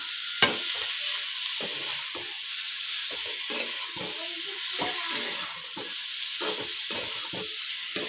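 Pre-boiled cauliflower sizzles and hisses steadily in a small, very old wok, with repeated scraping stirs of a utensil breaking through the constant frying noise; no one speaks.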